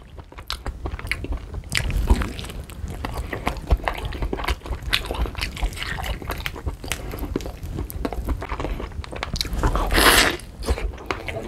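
Close, wet biting, crunching and chewing on a leg from a whole chicken adobo, with steady mouth sounds and occasional louder crunches throughout.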